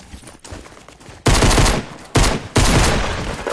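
Pistol fire in a video game: a few loud, sharp shots ring out close by, separated by short gaps.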